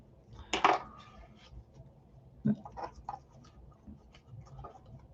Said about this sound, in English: This is where we shuffle the cards quickly.